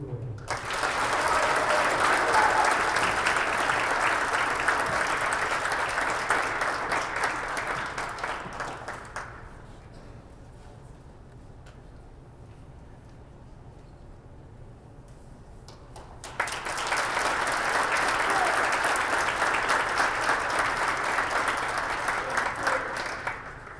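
Crowd applause fills a high school gym at a wrestling senior night, loud and sustained, fading to a quieter murmur midway before a second strong burst of clapping swells back up.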